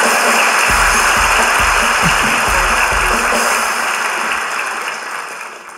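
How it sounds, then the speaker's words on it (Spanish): A live comedy show audience claps loudly for a friend of the comedian, a dense, sustained burst of applause that stays strong and then gradually fades near the end. "Un fuerte aplauso para mi amigo, por favor."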